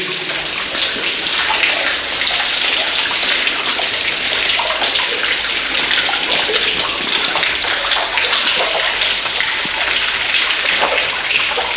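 Water running and splashing through a coal seam inside an old underground mine, a loud, steady broadband rush like a gushing tap that stays constant and close throughout, with no talking.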